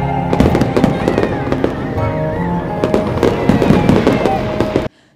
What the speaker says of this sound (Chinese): 这次在基隆地标上面呈现的高空烟火灿烂夺目